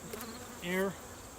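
A honey bee buzzes briefly near an open hive under a screen inner cover, one loud rising drone swelling and fading within a moment against a quiet hum.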